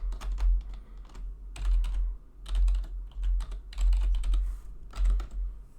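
Close-up computer keyboard typing in uneven bursts of quick key clacks, paused briefly between words, with a steady low hum underneath.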